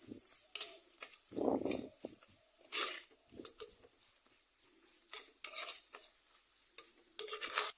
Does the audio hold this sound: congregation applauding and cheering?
no